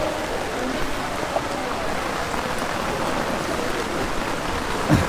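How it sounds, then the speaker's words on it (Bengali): Heavy rain pours steadily outdoors amid Sylhet floodwaters, a dense continuous hiss of drops on water and surfaces, with faint voices in the background. "এখনো আমরা খুব বৃষ্টির মাঝে উবাইয়া আপনারা লাইভ দেখাই"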